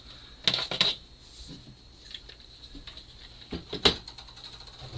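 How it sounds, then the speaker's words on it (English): A screwdriver takes Phillips screws out of the back panel of a DeLonghi coffee machine: sparse close clicks, ticks and small ratcheting scrapes in short bursts, with quiet gaps between them. "Let's remove those screws."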